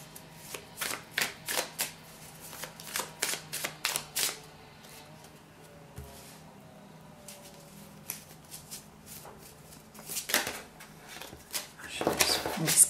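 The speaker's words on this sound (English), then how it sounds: "These cards are flying out of here" Tarot cards are shuffled in quick bursts of crisp riffling and slapping, close and clear, with short pauses between runs. The last few seconds bring denser shuffling, and a voice speaks at times.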